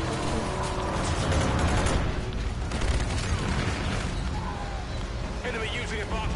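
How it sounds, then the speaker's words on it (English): Dense, continuous gunfire and explosions from a team deathmatch video game, with rapid bursts and booms layered thickly throughout. "Explosion incoming, take cover."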